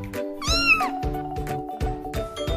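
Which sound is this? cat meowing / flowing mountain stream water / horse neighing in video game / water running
cat meowing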